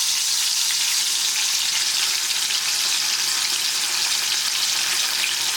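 Steady, loud sizzling and crackling of fish frying in hot oil over medium-high heat, a continuous hiss without pauses or voices.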